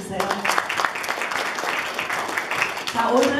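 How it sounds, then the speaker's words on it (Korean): Parents in an audience applaud the teachers at a Korean heritage school's 'My Dream' speech contest, a steady wash of clapping with a voice speaking over it. "부모님들 우리 선생님한테 박수 한번 쳐주세요"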